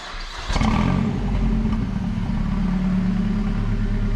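A Mazda engine with its exhaust removed revs hard, a loud raw roar rising abruptly and then holding steady at high volume nearby.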